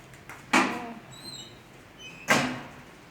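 Two sharp door knocks or latch bangs about two seconds apart in a home on a hot day, fairly loud and close, with faint ambient noise and brief chirpy tones between.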